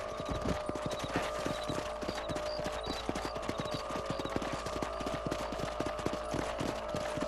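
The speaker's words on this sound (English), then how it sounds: "get back on the horses and see what else is going on" Horses trot in Red Dead Redemption with a dense, continuous clip-clop of hooves over steady ambient noise, loud and close throughout.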